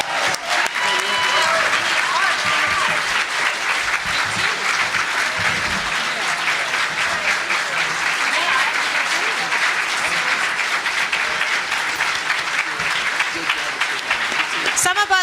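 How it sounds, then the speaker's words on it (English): A convention audience at a voice actor panel breaks into sustained, loud applause, a dense wash of clapping lasting the whole stretch with some cheers mixed in. "give them a round of applause"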